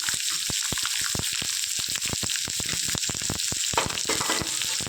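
Finely chopped onions frying in hot oil in a pan, with a steady, fairly loud sizzle broken by rapid crackling pops throughout and no voices.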